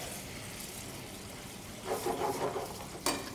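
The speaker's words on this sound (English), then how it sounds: "add about a cup of beer to deglaze the bottom of the pan" Beer poured into a hot pan on high heat to deglaze it, a steady low sizzle and hiss that rises into louder bubbling and spitting about halfway through, close by and without talking.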